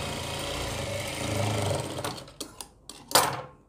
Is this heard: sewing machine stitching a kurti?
yes